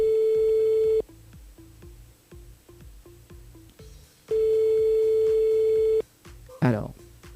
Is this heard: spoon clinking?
no